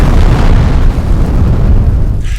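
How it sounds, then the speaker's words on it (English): A colossal explosion over remote wilderness forest, rendered as a loud, sustained deep boom with heavy rumbling low end that rolls continuously for a couple of seconds before easing off slightly at the end. "Suddenly, a colossal explosion erupted, releasing energy equivalent to thousands of atomic bombs."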